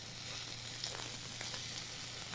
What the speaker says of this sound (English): Now you can hear the chicken sizzling away.